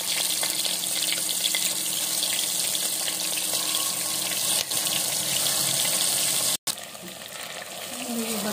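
Brinjal pieces with curry leaves fry in hot oil, a steady, dense sizzle running throughout with a brief dropout near the end.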